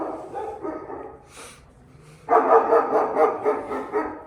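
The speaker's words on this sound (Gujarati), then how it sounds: "ના જો આ ડોગી બધા જોઈ લે" Three or four dogs barking in repeated overlapping bursts in the morning in Mussoorie, nearby and fairly loud, with a brief lull before a louder stretch of rapid barking.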